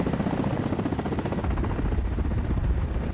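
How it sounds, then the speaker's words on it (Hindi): Military attack helicopter lifting off toward enemy territory in the Russia–Ukraine war, a loud, close, continuous rotor roar with dense low thumping throughout, no voices. "हेलीकॉप्टर दुश्मन के इलाके में हमले के लिए उड़ान भरता दिखाई दिया।"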